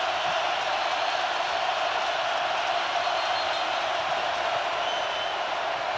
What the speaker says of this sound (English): this will be as loud as this crowd has been all day